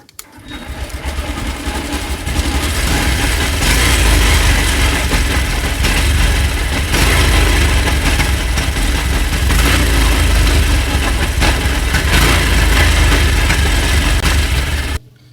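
A Honda Shine 125 BS6 motorcycle with a pickup fault and a suspect fuel pump runs close by for about fourteen seconds. The engine holds a steady, buzzing idle throughout, then cuts off abruptly, and no one speaks.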